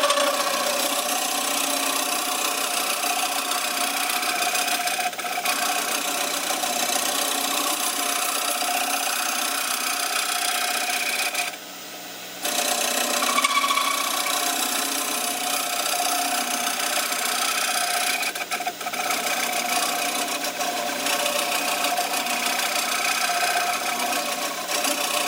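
Wood lathe spinning steadily as a scraper works the base of a turned tea light holder, a continuous close whirring hum with a brief pause partway through.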